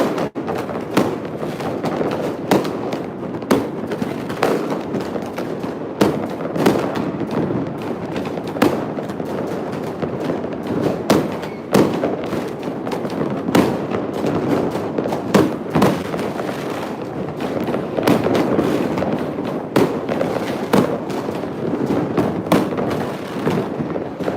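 Dense New Year's Eve fireworks burst close overhead and all around, a relentless barrage of sharp cracks and booming thumps with no pause, loud throughout.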